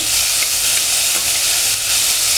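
Chopped onion frying in a pan until golden brown gives a steady, close, loud sizzling hiss that runs without a break, with no voices.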